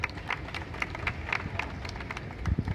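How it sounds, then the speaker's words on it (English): A theatre audience at a Gadget Show finals event gives a presenter a round of applause, a dense and lively spatter of clapping from a crowd, with a few closer, louder claps near the end. "Round of applause for Hannes, please."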